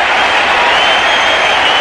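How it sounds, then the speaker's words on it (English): A cricket crowd applauds a departing batsman at an Australia v South Africa one-day match in 1993-94, a steady, dense wash of distant clapping and crowd noise that runs the whole time without breaks. "So Dean Jones acknowledging the applause."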